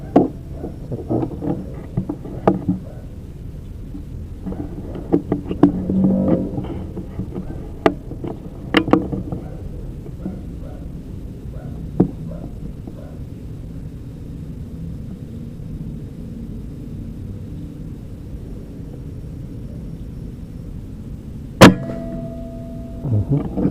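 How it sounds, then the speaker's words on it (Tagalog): A silenced air rifle is fired while zeroing, giving a scattering of short, muted pops and clicks over a quiet outdoor background, with one sharper report near the end. "So naririnig nyo yung silencer, mga tito. Sobrang tahimik, ang ganda."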